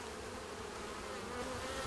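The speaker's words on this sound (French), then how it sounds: "Là, vous voyez que les abeilles sont sur le cadre, elles sont tranquilles" Honeybee workers hum steadily over a hive frame, a continuous close drone of many wings with no voices present.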